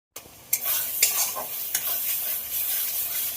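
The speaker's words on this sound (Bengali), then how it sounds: "মশলা কষানো হয়ে গেছে" Spice paste with turmeric frying in a pan for a potato, pointed gourd and prawn dish, a bright crackling sizzle broken by several sharp stirring scrapes, close and fairly quiet.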